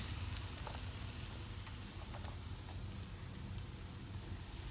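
Fish laid into a pan of fried tomato and paprika for black rice sizzles steadily with a crackling, rain-like hiss, an even, close frying sound with no talk.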